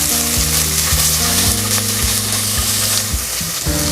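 Sliced onion sizzles loudly in hot ghee with cloves and cardamom for ghee rice, a steady close frying hiss under background music, with no talk.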